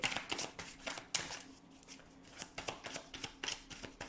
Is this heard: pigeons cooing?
no